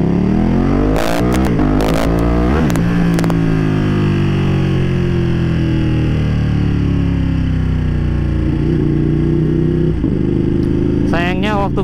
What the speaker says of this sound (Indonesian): Motor ini itu walaupun dia 2 silinder ya, tapi tenaganya juga bisa keluar di atas loh.